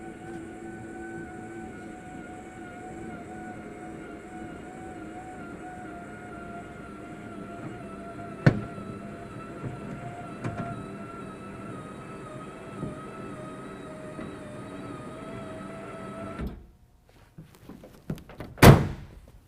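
A Pace Edwards UltraGroove powered tonneau cover runs on a 2017 Nissan Titan pickup bed, its motor whining steadily for about sixteen seconds with a few clicks before stopping, followed by a couple of sharp thunks.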